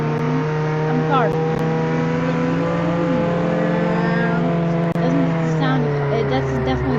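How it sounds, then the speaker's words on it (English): A car engine in a video game revs steadily, its tone rising and falling in pitch as the vehicle accelerates, loud and continuous throughout. "That's definitely the sound a car makes."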